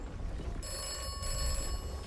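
A telephone rings in the video game Atomfall, a steady electronic bell tone with sustained high harmonics starting about half a second in and continuing to the end over a low rumbling game background.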